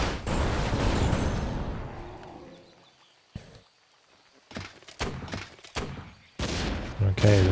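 Mortar team artillery in Warcraft 3 lands as a dense burst of booming thuds, followed by a quiet gap and then scattered sharp impacts and clatter of battle effects, fairly loud and close in the mix.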